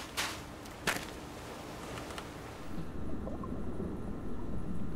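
Low, murky underwater ambience in Minecraft, a steady rumbling wash with soft gurgles, preceded by a couple of sharp clicks near the start.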